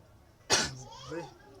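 A single sharp cough close to the microphone, followed by a brief voiced throat sound.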